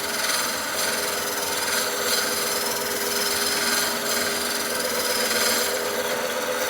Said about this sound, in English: I'm just shaving really, really gentle on this. I'm using a small gouge